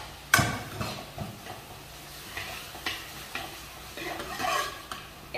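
Carrots and onions are stir-fried in a pan for veg momo stuffing. A spatula makes repeated scraping, knocking strokes against the pan over a faint, steady sizzle.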